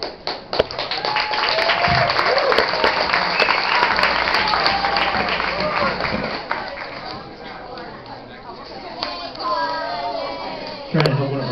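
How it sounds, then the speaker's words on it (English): An audience at a children's band concert breaks into dense, sustained applause that gradually thins out, with children's voices and crowd chatter mixed in before a voice speaks near the end. "I didn't expect to get an applause"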